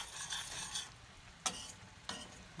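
Shrimp curry with coconut milk simmers in a pot while a utensil stirs and scrapes through it: a soft sizzle under several brief, close scraping strokes, with no voices.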